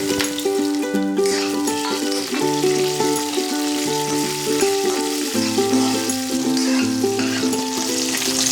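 Ginger pieces and green chillies fry in hot oil with a steady, loud sizzle that runs the whole time beneath prominent melodic background music.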